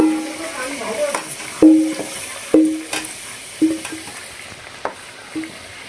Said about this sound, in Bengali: আলুগুলো সুন্দর করে ভেজে নেব